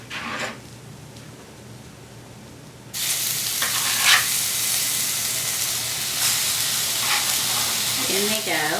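A hot, smoking pan sizzles loudly before burgers go in, a steady frying hiss that jumps up sharply partway through and holds at a bright, close level with small crackles.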